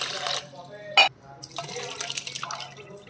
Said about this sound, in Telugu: ఇంకొంచెం వాటర్ వేసుకుందాం.